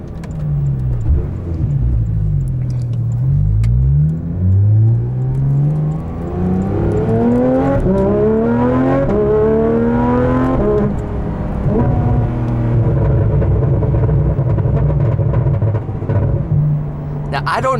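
A 2019 Porsche GT3 RS with a PDK gearbox, IPE exhaust and crackle tune revs and pulls hard, its engine note climbing steadily in pitch, easing off, then settling into a loud, throaty drone with rumbling bursts, close and dominant.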